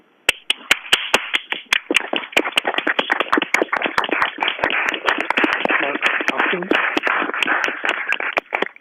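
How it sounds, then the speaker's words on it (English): A round of applause from a small group at a school board meeting, steady scattered clapping with sharp individual claps standing out, continuing for several seconds. "we engage in a round of applause for these amazing educators"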